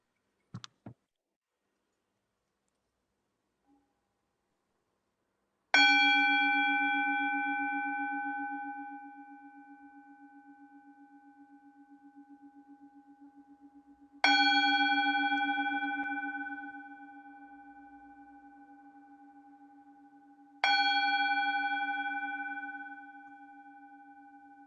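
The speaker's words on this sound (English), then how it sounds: "I'm going to ring the bell 3 times" A resonant bell is struck three times, several seconds apart, at the start of an interfaith prayer session, each ring clear and close, slowly decaying into quiet; faint clicks precede the first strike.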